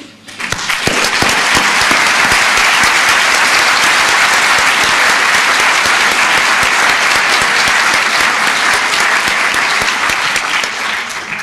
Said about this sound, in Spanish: Tributadles un cariñoso aplauso para que les llegue allá donde se encuentren.